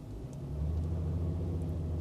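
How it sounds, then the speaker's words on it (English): A 2022 Toyota Tundra pickup engine rumbles low and steady as it rolls along, with a slight thump and swell partway through as it crosses a speed bump, no voices. "we just went over speed bump number 1"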